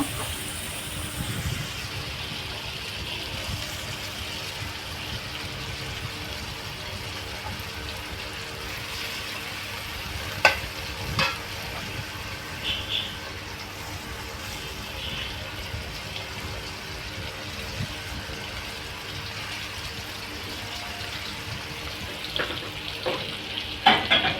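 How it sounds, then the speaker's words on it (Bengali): Fish pieces laid into cooked spice masala in a pan, a soft continuous sizzle and bubbling with a few faint clinks and scrapes, steady and moderately quiet, no speech. "এখন আমি মাছগুলো মশলার মধ্যে দিয়ে দেব।"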